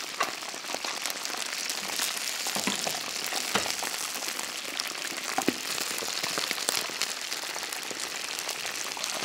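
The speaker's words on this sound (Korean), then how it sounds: "맛있게 또 튀겨지는 소리가 들립니다" Chicken breast deep frying in hot oil, giving a dense, continuous crackling sizzle with scattered sharper pops throughout, steady in level and with no voices.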